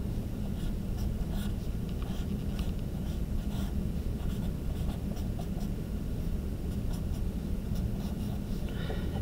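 Pencil drawing a hand on paper, a steady dense scratching of graphite strokes that runs without a break from start to finish, close and fairly loud, with no talk.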